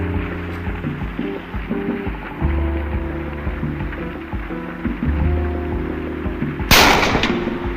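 Gunfire in I Expect You to Die 2 cracks out over a loud, rumbling droning game backdrop, with a sharp bright burst of shots near the end.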